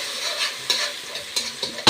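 Garlic paste and red pepper hit hot frying oil in a sizzle, with several sharp spoon scrapes and stirs breaking through the hiss at uneven intervals, close and moderately loud.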